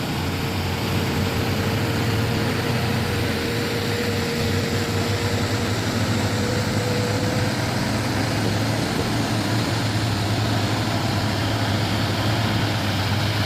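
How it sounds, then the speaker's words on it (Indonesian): A trailer truck's engine idles on an uphill road, a steady low diesel drone that continues unbroken and fairly faint under broadband road and wind noise. "Ada truk trailer."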